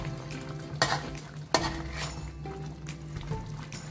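A spoon stirs spicy rica rica free-range chicken in a sizzling pan, with a few sharp scrapes and clanks against the metal over a steady frying hiss.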